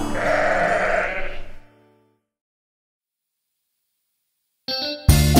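Sheep bleating in a children's nursery rhyme song: a loud, close bleat for about two seconds, then silence, then short bursts of music.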